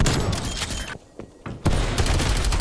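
Loud, dense shotgun fire in a first-person shooter video game, rapid blasts that stop for a brief lull and then resume just as heavily.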